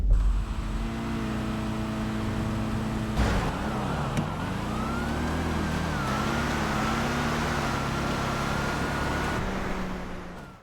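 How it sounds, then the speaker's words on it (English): A purple GT Classic and a rival car launch side by side in a GTA street drag race, engines roaring and revving hard as they pull away, loud and continuous with a rising whine. "Well, they take off about even, but Mage stumbles a little bit off the hit."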